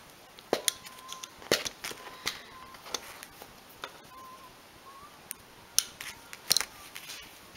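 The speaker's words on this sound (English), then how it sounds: "You might have to cut some of the stem if it's too long." Scissors snip through flower stems while crafting shrinky dink jewelry, giving sharp, isolated clicks and chops at irregular intervals, some louder and close, others faint, with a quiet room in between.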